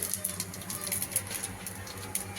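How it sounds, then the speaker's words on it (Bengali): Mustard seeds, bay leaf and dried red chillies tempering in hot oil in a kadai, giving a steady faint crackle and sputter with scattered sharp pops, no voices. "তেলটা গরম হয়ে গেছে সর্ষে ফোড়ন তেজপাতা আর শুকনো লঙ্কা দিয়ে দেব ফোড়ন দিয়ে দিলাম"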